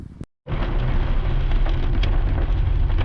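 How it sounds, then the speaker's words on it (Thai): Heavy storm rain pours down on a car driving through Mae Wang district, Chiang Mai, with a brief silent break before a loud, steady drumming roar fills the rest. "พอผมเริ่มออกรถมาฝนเริ่มตกหนักอีกรอบหนึ่ง"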